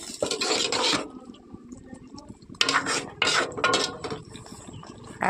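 A spoon scrapes and stirs a thick tomato, potato and cauliflower chorchori in a pan, giving close, rough scraping bursts with short pauses between strokes and no talking.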